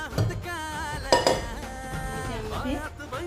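Cooked red pumpkin scraped out of a pressure cooker into a mixer jar: metal spoon clinks and pot clatter in a few sharp knocks, close up, heard under someone talking.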